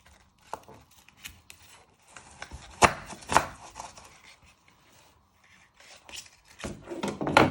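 An onion being chopped with a knife, sparse sharp cuts against a board, some single and some in quick clusters, close and crisp with quiet gaps between strokes.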